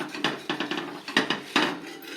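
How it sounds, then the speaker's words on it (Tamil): A spatula works under a Mysore masala dosa on the pan to flip it, giving a quick run of close metallic taps and scrapes, a few of them louder clacks, with no talking. "இப்போ நம்ம தோசையை நல்லா திருப்பி விட்டுக்கலாம்"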